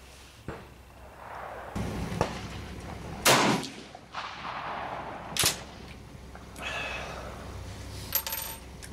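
At an outdoor range, a rifle fires Swiss GP11 ammunition: a few sharp, heavy reports ring out with booming tails over a noisy windy background, spaced a couple of seconds apart, no speech.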